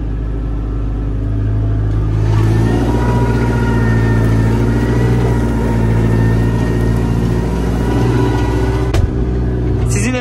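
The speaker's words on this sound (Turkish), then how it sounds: "Traktörü bayağı bir zorluyor, şöyle göstereyim." A 5450 tractor's engine labors loudly and steadily close by as it drives through a waterlogged, muddy wheat field, with a constant deep rumble and a brief rise in strain near the end.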